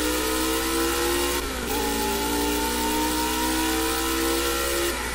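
A racing car's engine revs high and strains in the Project Cars video game, the pitch climbing through gears with a shift partway through, loud and continuous.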